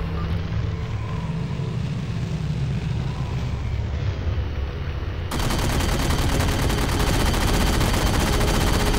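Gunfire in Halo 4, a dense, continuous roar of rapid shots layered with heavy rumble, growing louder and harsher in the second half, with no pauses.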